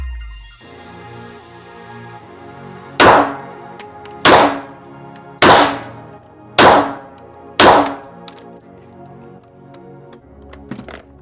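Five Glock 23 pistol shots ring out against steel targets, each a sharp crack followed by a bright ringing decay, spaced about a second apart, loud and close, with a faint trailing clank afterward.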